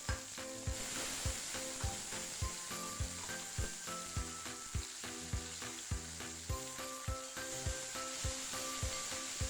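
Chopped onion and finely diced potato sizzle steadily in hot oil for a Chettinad green chilli mandi, with regular scraping stirs every half second or so cutting through the constant frying hiss.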